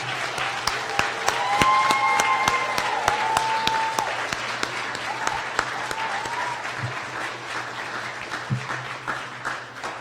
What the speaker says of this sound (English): we need a massive applause for all those that have taught these new graduating doctors